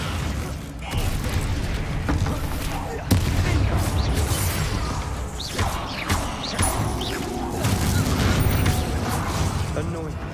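Spell explosions and combat crashes sound in the video game Hogwarts Legacy, with a sharp blast near the three-second mark and further bangs and rumbles over busy action noise.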